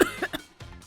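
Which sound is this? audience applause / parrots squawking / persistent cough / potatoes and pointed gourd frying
persistent cough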